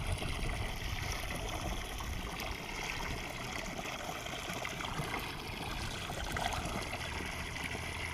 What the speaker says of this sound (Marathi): टाकी भरतीये.